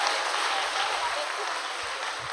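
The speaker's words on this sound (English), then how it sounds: "Let's give them another big round of applause." A steady wash of applause from an audience at a ceremony honoring Bishop and Pastor Chrys Johnson, given for the young boys who spoke, continuous and even at moderate distance.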